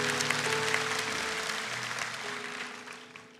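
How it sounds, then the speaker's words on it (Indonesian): A church congregation claps together in sustained, moderately loud applause during a sermon on answered prayer, a steady wash of hands that slowly fades, with a faint sustained tone underneath. "Kasih tepuk tangan untuk Tuhan"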